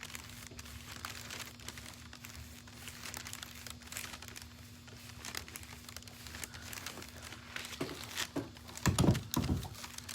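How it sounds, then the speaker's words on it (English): Heat transfer vinyl foil being peeled from a tote bag makes faint, close crinkling and soft tearing rustles over a quiet low hum, growing sharper in a few louder crackles near the end. "this will fuse the vinyl adhesive and the foil to the bag, and then once it's completely cooled off, it'll peel off nicely"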